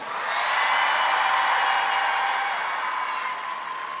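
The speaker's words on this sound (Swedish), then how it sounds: "En stor applåd, Carola!" Large live crowd applauding at Melodifestivalen 2023 in Malmö Folkets Park, a dense steady roar of many hands that stays loud throughout and eases slightly near the end.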